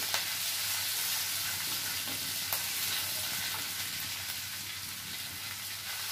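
Grated ginger and finely chopped green chillies fry in a pan with cumin seeds for sabudana khichdi, a soft continuous sizzle with occasional stirring clicks, close but fairly quiet, with no speech.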